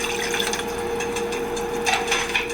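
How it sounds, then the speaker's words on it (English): Water poured into a cooking pot while making birria tacos, a steady, continuous splashing rush that holds at an even level for a couple of seconds, close by and alone. "And then we're going to add in our water."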